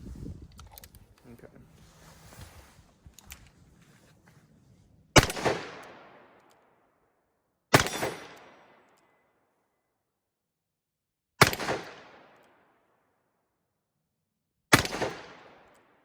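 A 2020 Colt Python revolver fires 6R brand premium ammunition: after some handling and loading noise, four loud, sharp shots ring out alone, spaced a few seconds apart, each with a brief decaying echo.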